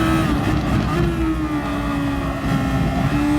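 A DGT Thor race car engine in a racing video game at Spa, droning steadily and loudly near at constant high revs throughout, with a slight dip in pitch as the throttle lifts briefly before returning to flat out.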